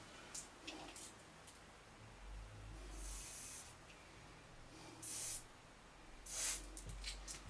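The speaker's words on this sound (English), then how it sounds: "Spray a bit of cleaner onto the plug and then we'll plug the plug in." Contact cleaner sprayed onto an electrical plug in short aerosol bursts: a brief hiss, then longer sprays and a final quick one. Close and fairly quiet, with faint low handling noises between them and no speech.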